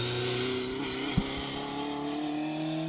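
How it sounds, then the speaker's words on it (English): Ford Mark II Escort rally car with square headlamp grille running on an asphalt stage on Welsh lanes, its engine holding a loud, steady high-revving note with a brief sharp pop midway, no voices. "the square headlamp grille Mark II Escort"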